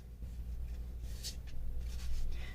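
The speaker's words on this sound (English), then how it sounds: "I'm just going to shuffle these cards on deck." A deck of tarot cards being shuffled by hand during a card reading, giving soft, close papery riffles and brushing bursts over a quiet room.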